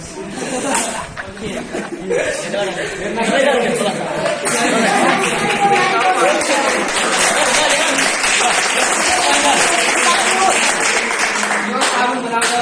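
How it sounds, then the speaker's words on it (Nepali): Applause from many hands clapping, mixed with crowd chatter and light chuckles, loud and sustained for several seconds with a dense, continuous texture. "धेरै हातको धेरै ताली"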